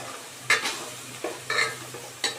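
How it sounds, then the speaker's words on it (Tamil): Chili powder sautéing in hot oil for a tamarind curry with brinjal and drumstick, a soft sizzle broken by several sharp spoon scrapes and stirs against the pan, close and alone. "இது போட்டு நல்லா மிக்ஸ் பண்ணி நல்லா எண்ணெயில் அந்த பச்சை வாடை போகிற வரவுக்கு நல்லா கொஞ்சம் வதக்கிக்கோங்க"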